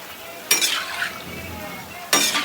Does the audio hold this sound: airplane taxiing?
no